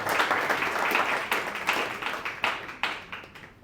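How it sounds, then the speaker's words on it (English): Audience applause for two honorees at a community gathering, a moderate crowd clapping in a brisk, slightly uneven rhythm with distinct claps pulsing through and tapering toward the end. "a massive round of applause to Jeff and to Moshe"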